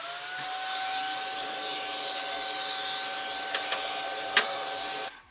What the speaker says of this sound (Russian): включаем пылесос